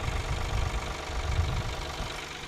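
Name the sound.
blue tractor engine running while being driven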